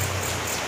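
Heavy rain falls steadily over an outdoor plot being prepared for planting, a dense, even hiss of water that stays loud and unbroken for the whole short moment, with no voices.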